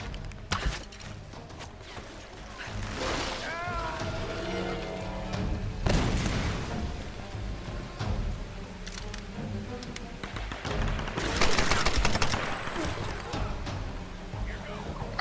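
Bursts of gunfire in the Tomb Raider video game, several loud broadband shots and volleys with booming impacts scattered through a busy game soundtrack, heard beneath ongoing talk.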